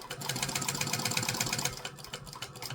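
A domestic sewing machine stitching bonded polyester for a handmade phone sling, running in a fast steady mechanical rattle close up, then slowing and easing off near the end, with no speech.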